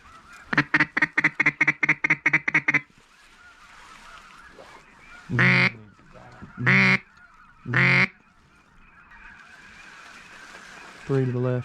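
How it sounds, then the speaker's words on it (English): Geese honk loudly in a rapid burst of calls during an Arkansas duck hunt, followed by several separate honks a moment apart, with a faint voice and outdoor hiss between. "See them geese coming up?"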